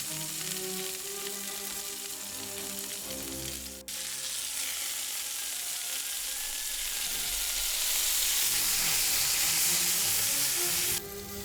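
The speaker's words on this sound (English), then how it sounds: "We're frying about a half a cup of red bell peppers." Red bell peppers sizzle steadily in a hot pan, a continuous crackling fry with a brief clatter partway through, no voices.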